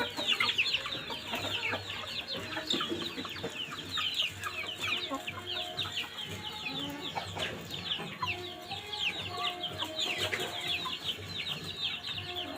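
Rhode Island chickens cluck steadily and busily while being fed a snack, with a dense, continuous chorus of close clucks and chirps and no talking.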